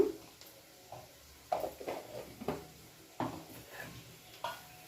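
Spatula stirring an egg scramble (egg porutu with salt and turmeric) in a pan on the stove, a series of soft scraping strokes with faint sizzling beneath, fairly quiet and close.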